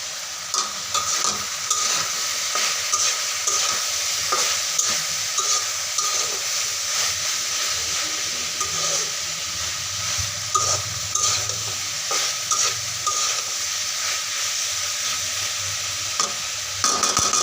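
Flat beans fry in a pan under a continuous loud sizzle and hiss, while a utensil scrapes and knocks against the pan in frequent irregular stirring strokes, close up with no voices.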